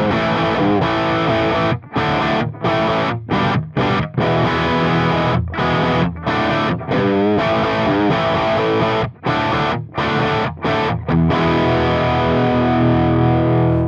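Heavily distorted electric guitar recorded through a real amplifier, played as a dense, sustained riff with brief choppy gaps between chords, loud and close with no talking.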